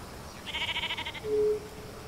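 Sheep crowd a road in a video game, giving a quick stuttering bleat followed by a short, clear, steady baa, moderately loud against a faint ambient background.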